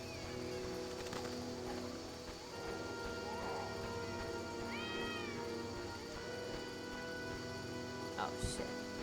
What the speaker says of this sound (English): Found another cat?